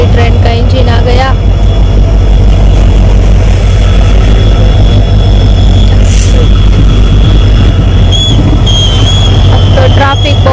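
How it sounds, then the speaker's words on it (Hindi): A train engine passes a level crossing with traffic stuck waiting: a loud, continuous low rumble of heavy engine noise, very close, with voices over it. "फाइनली ट्रेन का इंजन आ गया।"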